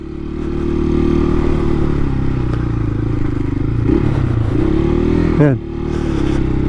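A motorcycle nicknamed Pongkan rides a slippery road near Lobo, Batangas, its engine droning steadily and close throughout, with a brief dip and rev near the end while someone talks over it.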